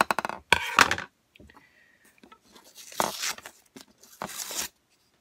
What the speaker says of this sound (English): I'm just going to snip these with a pair of scissors